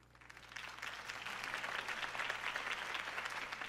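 Crowd applause after a campaign speech in the Batman: The Telltale Series video game, swelling quickly into sustained, dense clapping at moderate distance, fairly quiet and without voices.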